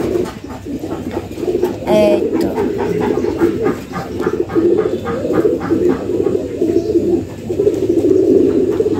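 Pigeons coo steadily in a loft with a low, continuous rolling murmur, and someone speaks briefly over the birds.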